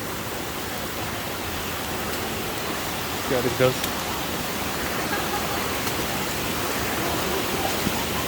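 A strong river current rushes broadly and steadily at a crossing in rainy Dominica, with constant loud wash throughout and a person briefly speaking midway.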